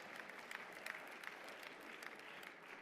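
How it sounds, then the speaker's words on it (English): Audience clapping at a ceremony swearing in judges to New York City courts, a faint, steady patter of many hands from a distant crowd, continuous for about three seconds with a few sharper claps standing out. "You can clap for the Spanish if you like."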